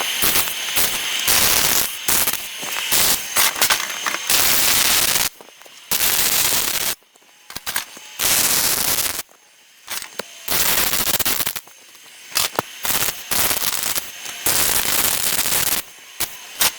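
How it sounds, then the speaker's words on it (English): Welding on a steel spare tyre holder with paint still on the metal comes through as loud bursts of harsh crackling static, broken by short silent pauses between runs. "So we'll get to welding this one on and see how it goes."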